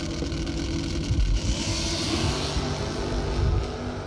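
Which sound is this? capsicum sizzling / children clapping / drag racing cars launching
drag racing cars launching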